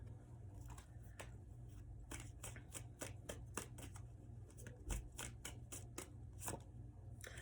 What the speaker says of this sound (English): So many cards just exploded. Well, let me pick them up.